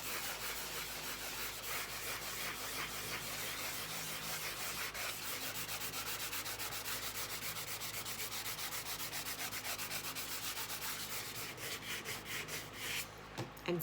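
A plastic stylus scratches back and forth over metal tape in a steady, close, rasping rub, continuous for many seconds with no talking.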